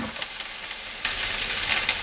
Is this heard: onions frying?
yes